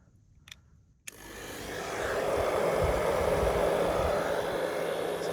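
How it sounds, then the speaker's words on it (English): After a couple of soft clicks, a hairdryer switches on and blows a steady, fairly loud whoosh onto a cracked concrete area beside a Sika Trocal PVC roof, running continuously to the end. "So I've got a bit of heat on that with the hairdryer."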